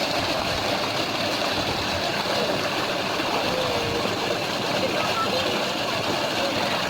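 A village tubewell pump engine in rural Punjab, Pakistan, runs steadily while water gushes out, a continuous idling drone mixed with splashing flow and faint talk from people nearby.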